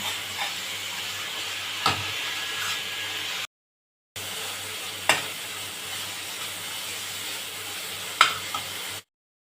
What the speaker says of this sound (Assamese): মছলাখিনি ভালকৈ ভাজি লৈছোঁ। তাৰপিছত অলপ আদা নহৰু পেষ্ট দি দিছোঁ।